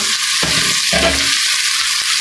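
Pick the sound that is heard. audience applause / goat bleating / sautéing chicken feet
sautéing chicken feet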